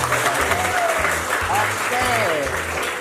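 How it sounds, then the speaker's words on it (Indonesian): Audience at a morning school assembly at SMK Negeri 7 breaks into sustained applause, a dense wash of clapping that holds steady for a few seconds, with a faint murmur of voices beneath it. "tepuk tangan dulu dong"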